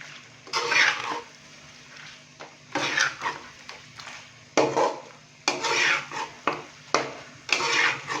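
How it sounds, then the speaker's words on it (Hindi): A spoon scrapes and stirs beef with spices in a pot for Bannu beef pulao, repeated close bursts of scraping and clattering with light sizzling between them, no voices. "बीफ डालने के बाद अच्छे से हम इसको मिक्स करेंगे।"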